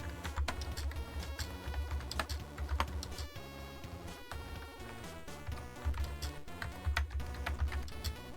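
Typing on a wireless computer keyboard makes quick, soft key clicks that run through the clip under faint background music.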